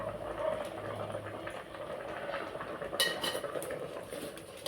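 Tomatoes cooking for thokku are stirred in a pan, with quiet clinks and scrapes of a utensil against the metal and a sharper clatter near the end, all at low volume.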